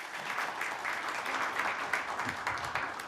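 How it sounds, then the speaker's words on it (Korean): An audience at a Korean legislative public hearing on real estate sales agency reform claps in steady, dense applause for about three seconds at moderate level, with no voices over it. "큰 박수로 부탁드립니다."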